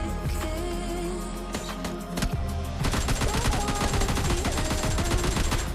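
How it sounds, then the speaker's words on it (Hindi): Dense, loud gunfire from an online battle-royale shooter game, with rapid bursts and overlapping shots that grow busier partway through; no voices. "धीरे धीरे स्टेडियम के गन साउंड तेज होते जा रहे थे"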